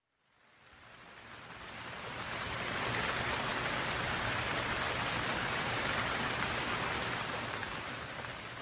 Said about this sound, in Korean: 비가 내리기 시작했습니다. 빗줄기는 점점 굵어져 장대비가 되었죠.